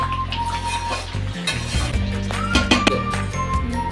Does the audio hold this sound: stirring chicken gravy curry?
yes